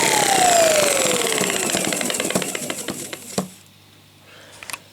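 Sebo Professional G1 upright vacuum cleaner with its belt connected, the motor whining loudly and falling in pitch as it spins down, then rattling and clicking before stopping.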